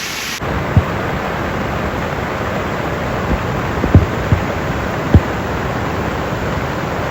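Steady monsoon downpour mixed with the broad rush of a rain-swollen stream on the Karjat–Khandas–Bhimashankar trek, a loud constant wash of water with a few faint knocks.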